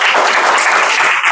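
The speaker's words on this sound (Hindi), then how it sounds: "एक बार ताली बजा दो इसके लिए" Students at a summer workshop orientation session burst into steady, dense applause that fills the room, close and loud with no talking over it.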